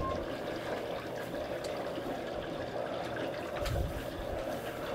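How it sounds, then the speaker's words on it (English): Hot water running steadily from a kitchen sink tap, a continuous broadband rush that stays even and fairly close throughout, with no talking. "That's just hot water from the sink."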